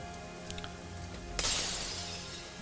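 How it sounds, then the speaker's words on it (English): A single sharp glass shatter from the video game Wuthering Waves, a sudden bright crash followed by a fading tinkle of shards over a quiet ambient background. "That's a glass break."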